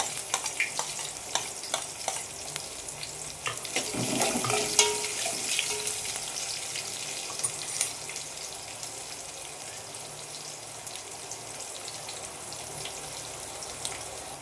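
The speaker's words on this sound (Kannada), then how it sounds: "ಈರುಳ್ಳಿ ಹಾಕ್ಕೊಳ್ಳಿ." Chopped onion fries in a pan for ridge gourd and lentil sambar, a steady close sizzle with stirring scrapes, and a brief louder hiss as the onion hits the hot oil.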